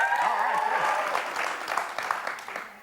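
Studio audience at a radio talk show applauding and cheering together, a bright continuous wash of clapping with a faint voice briefly audible near the start, then steadily tapering off.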